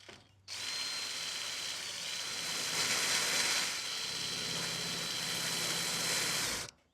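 A power drill bores through a double-wall panel on a greenhouse build, giving a continuous, close, high whine that holds steady for about six seconds before cutting off abruptly.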